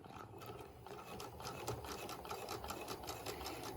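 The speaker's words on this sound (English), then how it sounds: "Now we're going to sew down the length of our fabric at 5/8 of an inch." Sewing machine running forward as it stitches a plain seam down a length of fabric at a 5/8 inch allowance, a steady close mechanical whir with rapid needle chatter and no talk.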